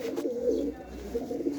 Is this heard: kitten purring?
no